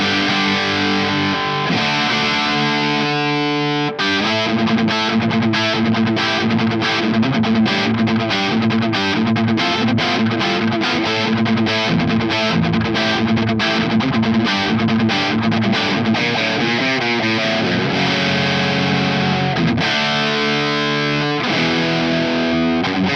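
Electric guitar played through a Headfirst Evil Joe 50-watt amp head on its Evil channel, a loud, heavily distorted tone with sustained chords giving way to fast chugging riffs and a ringing chord at the end.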